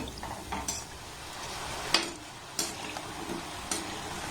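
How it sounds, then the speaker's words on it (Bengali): Flour dough balls frying in oil over a low to medium flame, a faint steady sizzle with occasional clinks and taps of a utensil against the pan. "গ্যাসের ফ্লেমটাকে লো টু মিডিয়াম রেখে এগুলোকে আমি একটু লাল লাল করে ভেজে নেব"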